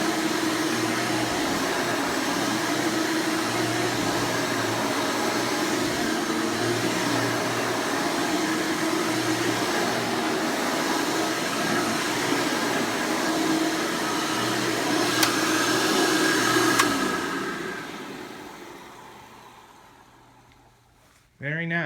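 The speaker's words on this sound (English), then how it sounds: "One thing I really love about this vacuum, I'm not even pushing it." A Hoover Elite Supreme U5071-930 upright vacuum runs with a steady, loud motor whine and airflow roar that holds for about seventeen seconds, then winds down and fades as the motor shuts off.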